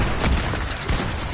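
Gunfire in the video game Fortnite, heard as a dense, loud burst of shots in one short, unbroken blast with no talk.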